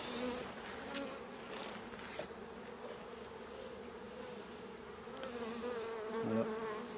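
A honeybee colony from a drone-laying hive hums steadily as foragers are gathered, a close, dense buzz with a few louder passing bees.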